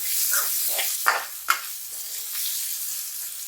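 Onions fry in a pan for spicy tomato thokku, a gentle hiss of oil punctuated by a few spatula scrapes, two sharper knocks near the middle, then settling back to a quiet sizzle.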